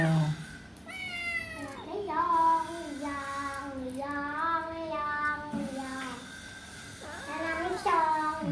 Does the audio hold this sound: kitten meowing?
yes